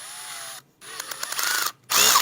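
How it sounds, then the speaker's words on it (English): Power drill fitted with a hex bit adapter, whirring in three close, loud bursts separated by short pauses, with a rising pitch as each run speeds up and some rattling during the middle burst. "I like to use a drill. And so you take a drill"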